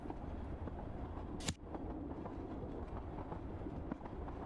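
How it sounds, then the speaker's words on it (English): Train cars rumble and clatter steadily along rails in a video game, a continuous low rolling noise with a brief sharp hiss or burst partway through. "The train lurched back into motion."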